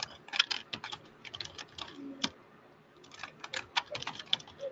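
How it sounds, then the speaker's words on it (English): Loud keyboard typing from a remote attendee's open microphone during an online presentation: rapid bursts of clicking keystrokes in irregular runs with short pauses, alone and close. "there's loud typing in the background"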